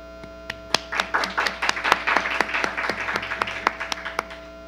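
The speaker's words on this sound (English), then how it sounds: "So let's welcome him with the applause." Applause from a conference audience greeting a keynote speaker at a robotic surgery event, a steady crowd of claps with sharp individual hits standing out, lasting throughout.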